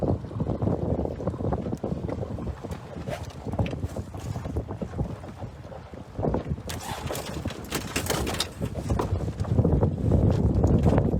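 A small sailboat tacking in the wind, with steady wind buffeting the microphone and water rushing along the hull, then a burst of flapping and rattling partway through as the sails swing over.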